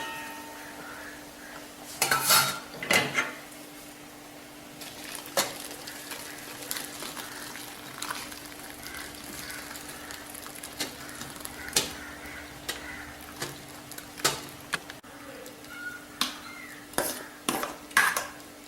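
Drumstick leaf soup is strained in a kitchen, with scattered clinks and scrapes of a metal strainer and pot along with soft liquid stirring, irregular and fairly quiet.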